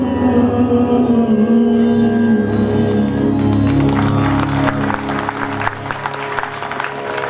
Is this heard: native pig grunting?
no